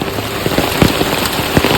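Heavy monsoon rain pours down near Malampuzha, a dense, steady hiss of drops drumming on surfaces with occasional louder splashes, loud and continuous throughout with no voices.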